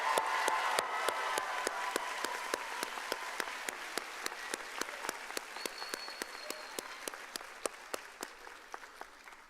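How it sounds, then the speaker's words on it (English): A commencement crowd at a high school graduation claps steadily for the graduating senior class, sustained applause with sharp individual claps standing out, fading slightly over about ten seconds. "Let's give them a round of applause."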